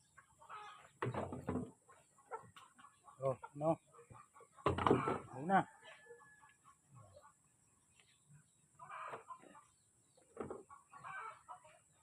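Chickens cluck and murmur nearby in short, scattered bursts. A person speaks quietly now and then in the background.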